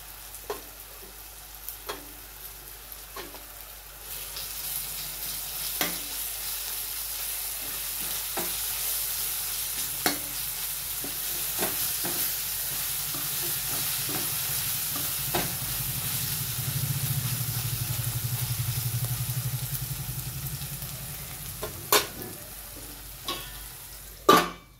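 Ginger garlic paste fries with a steady sizzle in a pan, with sharp, repeated clinks and scrapes of stirring against the metal across the whole stretch and a louder sizzle swell near the end.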